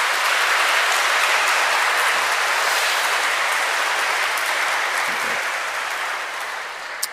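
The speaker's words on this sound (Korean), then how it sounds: "박수, 인사 부탁드립니다." A congregation applauds at a Catholic baptism Mass, a loud, dense and steady roar of clapping that fades slightly toward the end.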